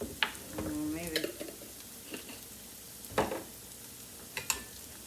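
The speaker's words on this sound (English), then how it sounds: "saute a couple of minutes, not long, probably like a minute, just so because the garlic doesn't burn" Garlic sautés in a pan as soft, quiet sizzling runs under a few clinks and scrapes of a utensil stirring against the pan, with no voices.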